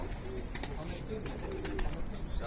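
Mardin pigeons cooing softly under steady background noise and faint talk, with a few brief high chirps scattered through.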